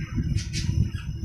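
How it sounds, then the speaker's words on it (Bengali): A pet myna bird gives a few sharp, close squawks in quick succession, loud against a quiet room. "দেখবেন আমার ময়না পাখিটি কথা বলবে"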